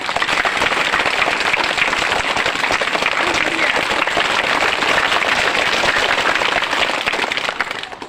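Loud, dense applause from a large audience honouring teachers at a police officer's motivational event in Cuddalore, steady throughout and tapering slightly at the end.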